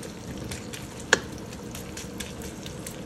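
Bacon fries in a wok, a dense, steady sizzle close up with one sharp pop partway through and faint stirring scrapes, no talking.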